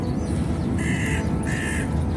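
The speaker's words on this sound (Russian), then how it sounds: "Ворона." A crow caws twice beside a tree-lined lovers' alley in Ust-Kamenogorsk, two short harsh calls heard over a steady outdoor background hum.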